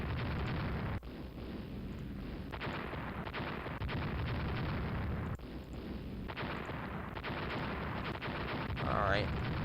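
Heavy naval guns boom repeatedly in a World War I-era sea battle game with Austria-Hungary, a continuous roar of dense, muffled firing and explosions with speech mixed in.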